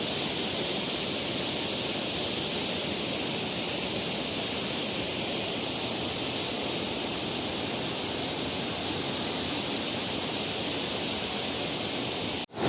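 A mountain stream in Neelam Valley, Kashmir rushes steadily past on a trek, a constant broadband wash of flowing water with no voices, holding even throughout before cutting off abruptly.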